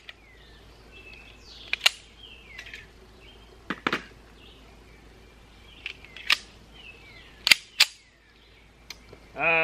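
Auto Ordnance 1911A1 .45 pistol firing Hydra-Shok rounds at an outdoor range: a handful of sharp, loud single shots spaced a second or two apart, each with a quick crack and brief decay over a quiet background.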